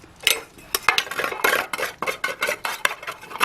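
A spoon scrapes and clinks against a small camping frying pan in a quick, uneven series of close, bright metallic scratches and taps, with no voice over them.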